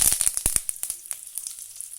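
Dried red chili and curry leaves crackle as they hit hot oil, a quick flurry of sharp pops and hissing spatter that tapers into a quieter sizzle.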